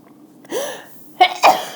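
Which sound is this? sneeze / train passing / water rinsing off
sneeze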